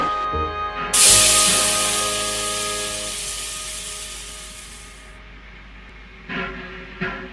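A loud burst of steam hiss that slowly fades over a few seconds, with a steady mechanical hum underneath and a couple of short puffs afterward.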